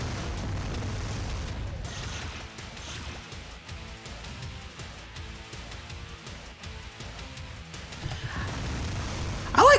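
Repeated booming blasts and bursts of Omega Cannon weapon fire in the video game Descent 2 roll on steadily, with mechanical clatter and a sharp electronic sweep near the end.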